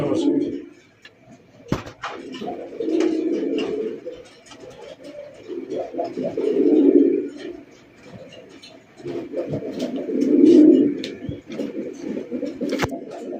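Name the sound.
pigeons cooing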